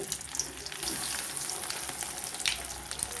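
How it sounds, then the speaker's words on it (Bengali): Bread rolls made with bread and potato frying in hot oil give a soft, continuous sizzle with a few sharp pops and crackles, fairly quiet and with no voices. "আর তেলটা দেখো গরমও হয়ে গেছে। এবারে আমি একে একে ছেড়ে দেবো।"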